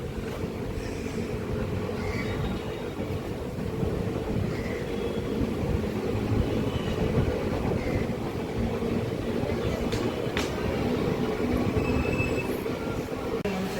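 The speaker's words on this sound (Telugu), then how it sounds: "మన ట్రైన్ అయితే బయలుదేరింది చీరాల రైల్వే స్టేషన్ నుండి." Thiruvarur Special Express train departing Chirala railway station, heard from on board as a steady, loud rumble of wheels and carriages with faint squeals and clanks throughout, no talking.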